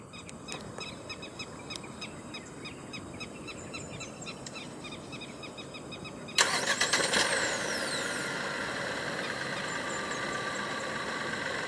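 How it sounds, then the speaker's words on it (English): After a quiet stretch with faint ticking and insect-like hum, a 2023 Proton X50 1.5T engine suddenly starts up by remote start and settles into a steady idle. "Standard for the X50 in Malaysia is a remote engine start system."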